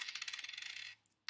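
Five coins clatter down onto a hard surface in quick succession, a bright run of metallic jingles and clinks that settles into silence, followed by one last small clink.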